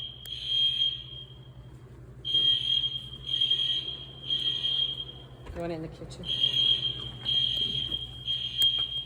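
A church fire alarm sounds in repeated beeping bursts of a high, steady tone, about one second on and short gaps between, loud and close, while people talk over it.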